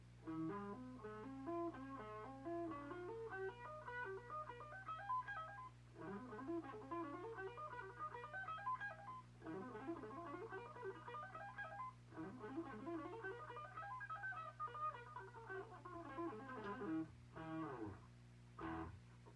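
A steel guitar playing a Stringmaster lick with wide augmented-sounding interval stretches, clear sliding and bending notes in repeated rising and falling phrases over a steady low hum, fairly quiet and alone.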